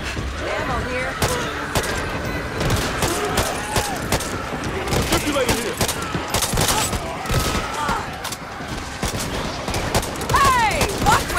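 Dense, chaotic automatic gunfire from a zombie-horde shootout in the video game Back 4 Blood, near and continuous for the whole stretch with sharp bursts and impacts, while people shout over the fighting.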